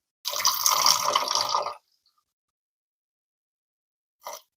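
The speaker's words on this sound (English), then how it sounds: "we're going to run some water through it, because we want to get that inside rinsed out too" Tap water gushes through a sausage casing in a close burst lasting over a second, then silence, then a brief second splash.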